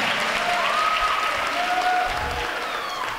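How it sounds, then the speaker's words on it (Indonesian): An audience in a mosque gathering applauds steadily for about three seconds. The clapping is dense and fairly loud, with a couple of faint voices and tonal sounds in the background. "Kasih aplaus."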